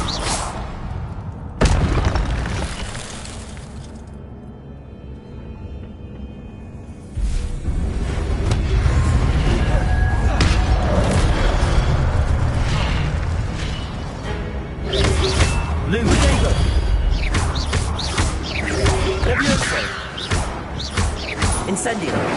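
Fire spell explosions in a video game boom repeatedly under ongoing combat, with low rumbling blasts and whooshes spread across a dense, loud battle soundscape; voices speak over parts of it.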